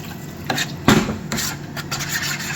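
Onion bhaji batter is stirred after more water is added, giving soft, uneven rubbing and scraping strokes close by with a louder splat near the start.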